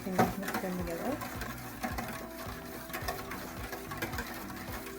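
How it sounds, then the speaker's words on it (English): Eggs are whisked in a bowl for chocolate chip French toast, with quick, rhythmic clicking and tapping of the whisk close by and a steady background hum. "Now, I'm going to whisk it all together, like so."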